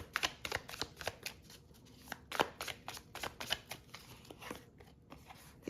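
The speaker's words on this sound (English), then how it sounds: "I'm going to pull the cards off on this." Tarot cards are pulled one by one from a deck in a quiet room, giving a run of crisp, close, irregular flicks and slides of card stock with no talking.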